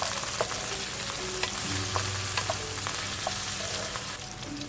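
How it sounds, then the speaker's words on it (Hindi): Chopped ginger stirred into sautéing chicken in a pan gives a steady close sizzle, with soft scrapes and light clinks from the stirring spoon throughout. No voices. "अब इसमें डालें 1 टेबलस्पून अदरक चॉप किया हुआ। इसको अच्छी तरह से मिक्स करें।"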